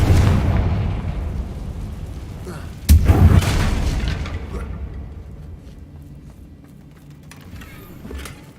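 A Confringo spell blast in the Hogwarts Legacy video game lands as a loud, deep boom. A second sharp explosive burst follows a few seconds later, then a rumbling decay that slowly fades.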